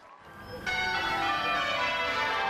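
Westminster Abbey's bells ring out in a special celebratory peal, one bright clang after a brief quiet start and then continuous overlapping tolls with a long shimmering ring, loud and close.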